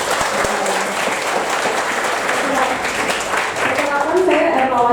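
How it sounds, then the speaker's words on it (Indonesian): Audience applause at a morning coffee-talk forum on leadership and environmental public policy, a steady dense wash of clapping filling the whole stretch, loud and close with a faint voice showing near the end. "Jadi kita mulai dengan tepuk tangan dong."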